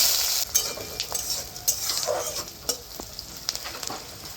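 Chopped onion, bay leaf and five-spice seeds fry in hot oil for a Bengali banana-flower ghonto. A close, crackling sizzle is broken by repeated scraping stirs of a utensil in the pan.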